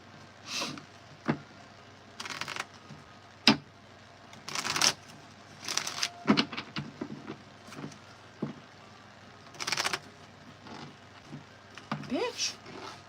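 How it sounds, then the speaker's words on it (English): A stiff tarot deck is shuffled in short, scattered bursts of soft riffling and card slaps, quiet and close, with pauses between them and some talking mixed in. "This deck is getting hard for me to shuffle."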